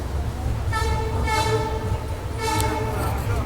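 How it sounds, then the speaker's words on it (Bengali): A train pulling into Guwahati station, with a loud continuous rumble of the rail cars and a sustained horn sounding in bursts above it, close and steady throughout. "এই আমাদের ট্রেন ঢুকছে গুয়াহাটি"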